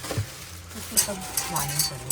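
Coffee being stirred inside a car, with light spoon clinks and scraping against a cup. Soft voices murmur in the background.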